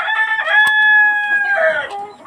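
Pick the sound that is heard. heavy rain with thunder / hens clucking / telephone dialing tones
hens clucking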